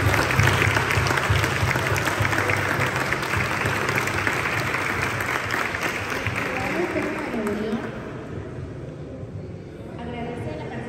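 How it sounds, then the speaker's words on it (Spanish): An audience applauds the author at a book presentation for a collection of short stories. The clapping is loud and steady and fills the room, then thins out and fades near the end. "les pido un fuerte aplauso para la autora"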